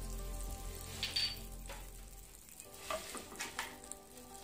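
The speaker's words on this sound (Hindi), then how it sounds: "बटर के मेल्ट होते ही हम डालेंगे इसमें जीरा" Cumin seeds sizzle and crackle in melted butter in a pan, a steady soft frying hiss with scattered pops and stirring, fairly quiet and with no talk.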